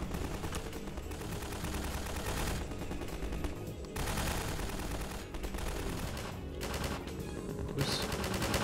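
Dense, sustained gunfire in Half-Life 2 Overcharged, with rapid automatic bursts running nearly nonstop and loud, only brief dips between volleys and no talking.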